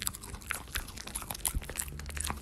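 A dog chews and crunches food up close, with rapid irregular bites and crisp crackling crunches in a quiet room.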